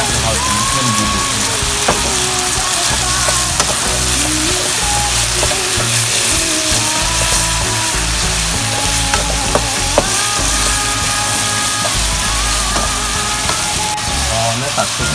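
Meatballs stir-fried with dark soy sauce in a wok, a loud continuous sizzle with repeated scraping and clanking of the spatula against the metal throughout.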